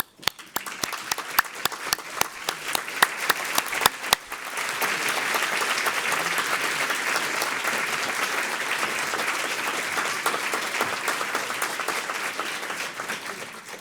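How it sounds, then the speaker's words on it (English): Audience applause at the 2019 Commonwealth Awards for representatives of the Aquinnah Cultural Center, beginning with a few sharp isolated claps, then swelling into loud, sustained applause from a large crowd. "Will the representatives of the Aquinnah Cultural Center please stand for applause?"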